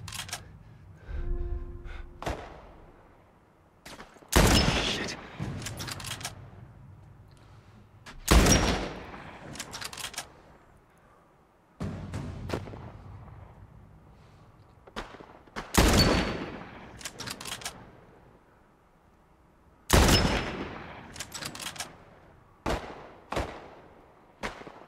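Rifle shots in a post-apocalyptic action game, loud and sharp, spaced a few seconds apart in single cracks and short bursts, each followed by a decaying echo, with almost no talking.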